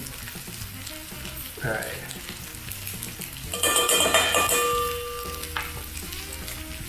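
Onions sizzle steadily in a hot pan while being stirred, with a constant frying hiss, a few metallic scrapes and clanks of the utensil, and a louder burst of sizzling midway as they are tossed; a person speaks briefly.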